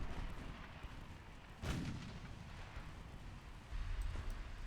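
A torpedo salvo launches in the naval battle game Ultimate Admiral Dreadnoughts as one sharp muffled boom over a low rumbling sea ambience, with a smaller thump following later, fairly faint overall.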